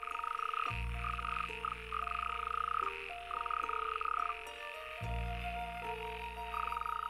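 Male frogs croaking at a pond during breeding season, a dense, continuous chorus of loud overlapping croaks with steady pulsing rhythm, close and without talk.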